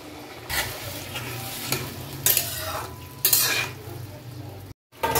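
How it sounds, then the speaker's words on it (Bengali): Close, steady sizzling of pointed gourd frying in a pan as water is added, with repeated scraping strokes of a spatula stirring, briefly cutting out near the end. "এবার পটলগুলো, এবার আমি এই বাকি জলটাও দিয়ে দেবো।"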